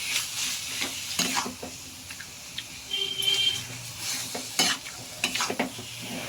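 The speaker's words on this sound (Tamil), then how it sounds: "அப்படி சிக்கனுக்கு தண்ணி நல்லா கிண்டி விட்டுக்கோங்க கைஸ்" Chicken coated in masala is stirred in a pan, with irregular scraping and knocking strokes of a utensil over a soft, steady sizzle, close and without speech.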